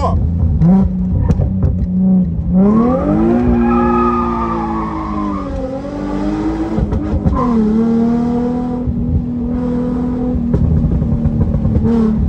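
A Nissan 350Z fitted with a Cobra exhaust cruising late at night, its engine loud and close as it rises and falls in pitch through repeated accelerations and gear changes, with a faint squeal near the start.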